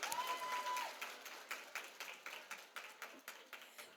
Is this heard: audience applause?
yes